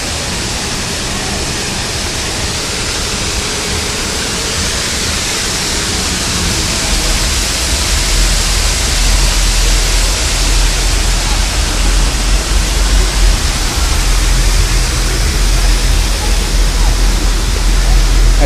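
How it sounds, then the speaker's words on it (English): Water pours steadily from a waterfall in the wildlife habitat garden of the Flamingo Hotel & Casino in Las Vegas, a loud, continuous broadband rush that stays close and constant throughout. "Nice waterfall area."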